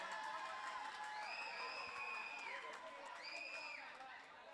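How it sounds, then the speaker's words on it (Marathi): A crowd at a local cricket match cheers in a faint, distant wash of noise beneath a steady hiss. Shrill whistles or whoops rise out of it twice. "प्रेक्षकांचा जल्लोष"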